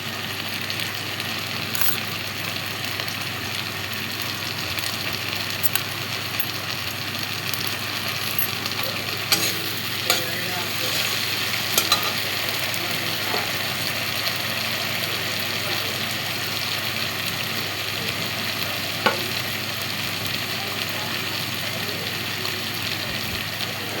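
Ginger, chilli, cumin and coriander paste frying with small raw mourala fish in a pan, a continuous steady sizzle with occasional faint clicks and scrapes, a soft background hum throughout.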